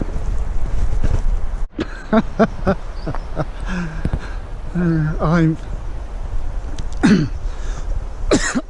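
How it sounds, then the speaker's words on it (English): Repeated coughing and throat clearing close to the microphone, heard over steady outdoor wind noise. "I'm still coughing."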